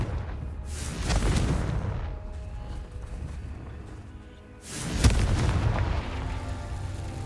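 Two booming Confringo spell explosions in Hogwarts Legacy, each a sudden loud blast with a rumbling tail, a few seconds apart.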